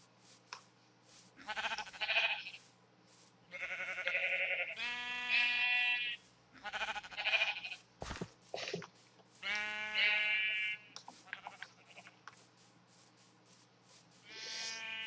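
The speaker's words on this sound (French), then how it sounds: "Il y a des moutons aussi." Sheep in the Minecraft video game bleating repeatedly, several separate nasal bleats spaced a second or two apart over a quiet background, clear and close.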